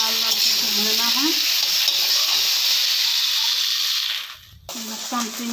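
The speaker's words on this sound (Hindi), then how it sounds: "आलू को थोड़ा लाल लाल करके भूनना है।" Potatoes fry in hot oil in a pan, giving a loud, steady sizzle with crackling and stirring clatter, which briefly dips before the frying resumes, while a voice speaks faintly underneath.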